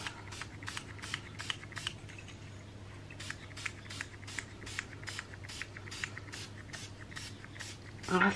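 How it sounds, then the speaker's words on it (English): Bright gold spray is misted onto the top of a turquoise handmade soap in a string of short, evenly spaced soft hisses, close and quiet. "we're just going to spray lots of bright gold on the top of here"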